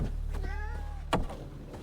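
A cat in Witcher 3: Wild Hunt gives a single drawn-out meow, clear and fairly close, followed by a brief thump against a steady low in-game hum.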